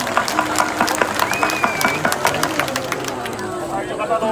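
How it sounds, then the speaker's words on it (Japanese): A crowd at the 2019 Katsushika fireworks festival applauds the fireworks makers with scattered, uneven clapping, fairly close, mixed with murmuring voices in the background. "今一度大きな拍手をお願いいたします"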